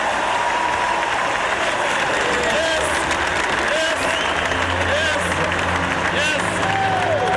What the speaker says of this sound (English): Got some Tar Heel blue in the Sky Dome here tonight, cheering on Jerry Stackhouse